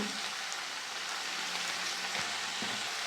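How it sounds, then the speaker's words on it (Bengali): Onion greens, potato and radish fry together in hot oil with green chilli, turmeric and salt, giving a steady close sizzle with soft crackles and a few faint stirring scrapes. "ভালো করে পেঁয়াজ পাতা আলু মূলো সব একসাথে ভেজে নিয়েছি।"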